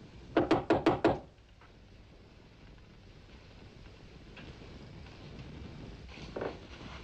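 Five firm, evenly spaced knocks strike a door at close range. A faint low ambience with a few soft shuffles follows, then a brief muffled thump.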